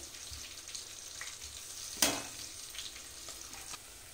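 Onions with green chillies fry quietly in a pan for veg pulav, a faint continuous sizzle with soft stirring scrapes and one sudden loud clatter midway.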